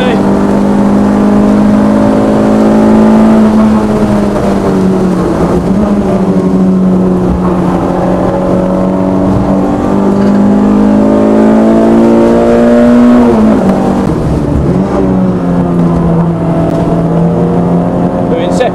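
A Renault Clio 172 with an F4R engine revs hard on a race track, its loud in-car engine note climbing and falling through gear changes over nearly twenty seconds.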